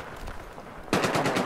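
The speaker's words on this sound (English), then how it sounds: "The Glock 18 has literally a stupid fire rate." A Glock 18 fires in a video game: a fast, loud burst of rapid automatic gunshots breaks out after a short quiet moment and rattles on to the end.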